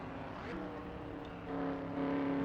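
A race car engine in an online racing video game holds a steady, droning whine with the throttle flat out, rising slightly in pitch and loudness as the car accelerates down the back stretch.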